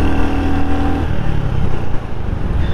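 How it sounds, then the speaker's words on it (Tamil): Exhaust note of a 2025 Royal Enfield Hunter motorcycle, a loud close engine drone with a steady tone that drops away after a second into a rougher rumble, no talking. "ஸோ எக்ஸாஸ்ட் நோட் உங்களுக்கு எல்லாம் கேட்க முடிஞ்சதுன்னா ஒரு சூப்பரான எக்ஸாஸ்ட் நோட் வந்து கொடுத்துருக்காங்க"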